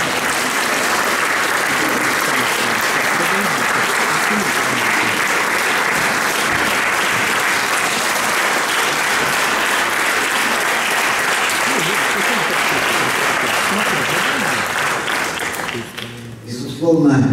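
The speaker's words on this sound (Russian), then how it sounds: "Под ваши аплодисменты" Long, dense applause from a concert audience at a 60th-anniversary show, loud and unbroken for about sixteen seconds before it suddenly drops away at the end.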